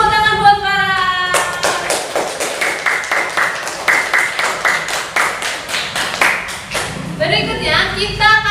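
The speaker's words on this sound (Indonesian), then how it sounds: "Beri tepuk tangan buat Farah." A classroom of students claps for a classmate: a burst of rhythmic, unison hand claps in quick regular beats, bracketed by chatter and talking voices at the start and end.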